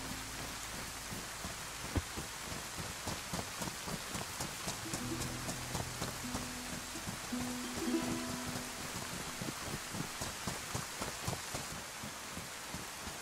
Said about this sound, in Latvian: jo baigais lietus.